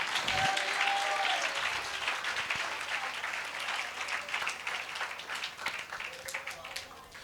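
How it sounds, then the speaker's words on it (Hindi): A church congregation claps loudly in thanks during a sermon, a sustained wash of applause that stays steady then thins slightly toward the end, with a voice briefly heard over it. "क्यों ना जोरदार ताली बजा के प्रभु को धन्यवाद करें।"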